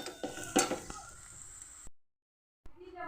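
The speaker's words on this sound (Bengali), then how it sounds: "হাফ চামচ পোস্ত দিয়ে একটু নাড়াচাড়া করবো দু তিন সেকেন্ড নাড়াচাড়া করে এবার আমি আলু ভাজাটাকে নামিয়ে দেবো" Fried potatoes with poppy seeds are stirred in a pan, a close sizzle with a few scrapes and clinks of a spoon against metal, briefly cut to silence before resuming.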